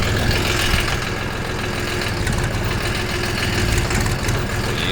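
A motor cultivator engine running for inter-row work in a strawberry bed, a loud steady chugging drone close by with a dense rhythmic low rumble and no voices.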